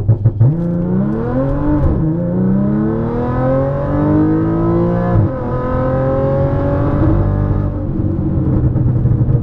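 A supercharged Audi S4 with performance modifications revs hard at full throttle, its pitch sweeping upward through two gear changes, loud and close, with no talking.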